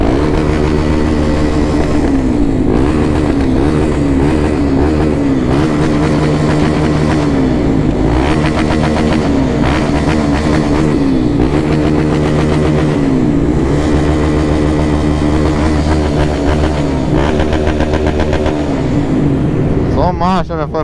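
A Honda XRE 300 motorcycle with an unlocked engine rides through a tunnel, its engine droning loud and steady with reverberant rumble and shifting pitch throughout, a voice talking over it.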